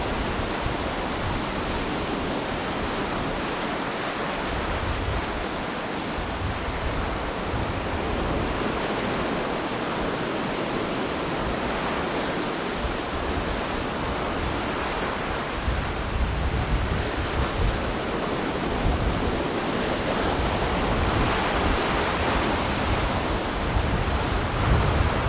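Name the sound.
ocean waves on the Ghana coast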